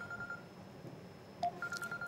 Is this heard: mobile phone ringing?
yes